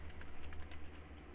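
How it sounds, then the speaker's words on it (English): Quiet, rapid keystrokes tap on a computer keyboard in a short, irregular run of soft clicks, alone and faint. "Just typing out the weapon."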